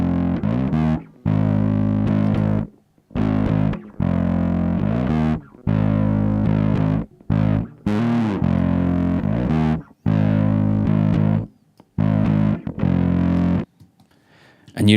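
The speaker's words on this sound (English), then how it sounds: "let's hear the kind of master bus of the distortion with and without the EQ." Loud, gritty distorted synth bass playing repeated sustained notes in choppy phrases with brief gaps, the tone shifting slightly between passes with and without EQ.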